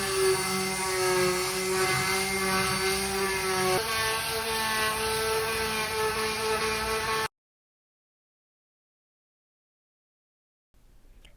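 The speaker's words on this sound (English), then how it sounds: "We want to first just sand down a layer of the wood just to get it nice and smooth before we're about to seal it with our resin." Power sander working over a wooden slab being prepared for a resin seal, a loud steady high-pitched whine with a slight pitch shift partway, then cutting off into silence before faint noise returns at the end.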